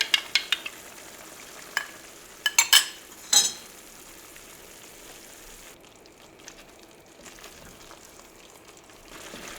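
Stir-fry cooking in an Instant Pot as a cornstarch slurry goes in, with a soft steady sizzle under a few sharp utensil scrapes and clacks early on, then settling into quieter bubbling.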